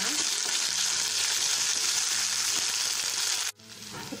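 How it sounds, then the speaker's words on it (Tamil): Onions with ginger garlic paste sautéing in a pan for a spicy kaadai (quail) gravy, a loud, steady sizzle and frying hiss that cuts off abruptly near the end, with no voices. "நல்லா வதக்கிக்கலாம்"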